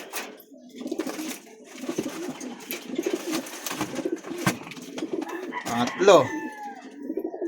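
Taiwan imported pigeons, some checkered, cooing softly in a loft, low rolling calls repeating close by while someone talks over them.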